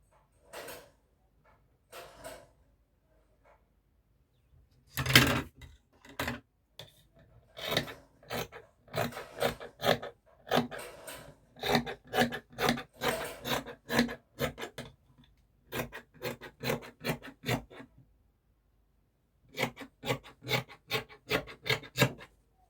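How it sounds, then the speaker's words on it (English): Scissors snip through fabric while a back piece is cut out for a structured cape, a close series of crisp, evenly spaced cuts in quick bursts with short gaps between them. "I'm going ahead to cut out my back piece."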